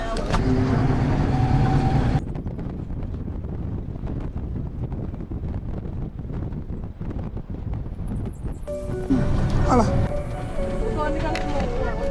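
Steady rumble and wind buffeting from a bus driving on a road during a long road trip through Malawi, continuous and fairly loud, with a brief shift in tone near the start and a slightly louder stretch toward the end.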